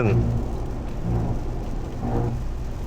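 Rain drumming on a Toyota Camry hybrid during a test drive, a dense steady patter against the car with low road rumble and a voice speaking over it.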